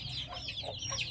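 Hens in a poultry shed with week-old chicks make soft, brief clucks and chirps close by, steady over a low background hum.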